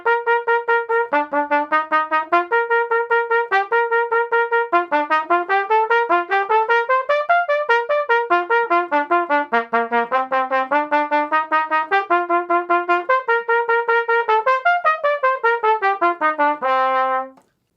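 A flute plays a slow, firmly articulated practice passage of evenly spaced, clearly separated notes, stepping through a melodic line at a steady tempo. It sounds near and alone, with no talking, and the last note holds briefly before cutting off.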